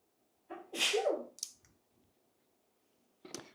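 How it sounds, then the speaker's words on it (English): A single sharp sneeze bursts out close to the microphone, loud and explosive, followed by a short breathy after-sound and then quiet, with a faint click near the end. "This is the first time I've ever held my AirPods while I sneezed"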